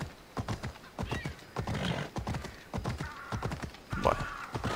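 A horse gallops in Assassin's Creed Odyssey, its rhythmic clip-clop hoofbeats pounding steadily up close, with a couple of neighs breaking through near the middle and end.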